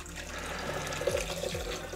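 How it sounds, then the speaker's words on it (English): Water is poured into a cooking pot that already holds olive oil and salt, giving a soft, brief splashing trickle that rises in the middle and then thins out, heard alone without speech. "I'm about to add another full cup of water."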